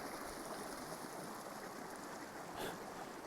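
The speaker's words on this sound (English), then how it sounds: "it's a river flowing hot water" Hot-water river flowing in Yellowstone, steaming as it runs: a steady broadband rush of moving water, close and continuous throughout, with a faint brief splash or rustle near the end and no talking.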